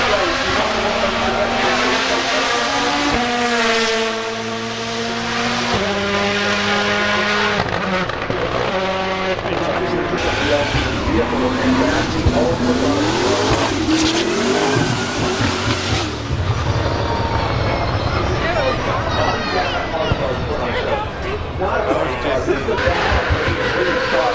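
A Bugatti W16 track-only hypercar accelerates at the Goodwood Festival of Speed, its loud engine climbing through rising revs and gear changes over about twenty seconds while a commentator talks over it.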